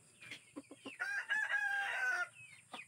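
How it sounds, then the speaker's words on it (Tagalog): A Japanese Shamo rooster gives a single long, hoarse crow in a backyard, preceded and followed by a few short clucks, fairly close with quiet surroundings. "magpapatoka muna tayo ng manok"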